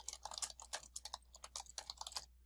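Someone types on a computer keyboard, a quiet, quick, uneven run of close key clicks lasting a couple of seconds with no speech.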